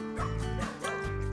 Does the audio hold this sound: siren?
no